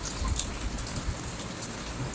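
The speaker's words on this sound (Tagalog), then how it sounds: "Kailangan na natin isarado kasi napasok ang ulan" Steady rain patters near an open window in the Philippines, a dense continuous hiss with occasional sharper drops, no voices.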